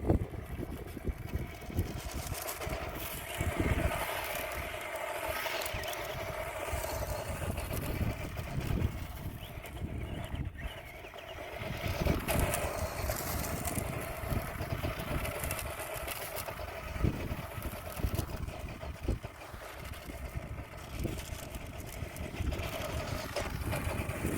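Kyosho Raider two-wheel drive RC buggy running, its small electric motor whining continuously with shifting pitch at moderate distance, outdoors with some wind, no talk.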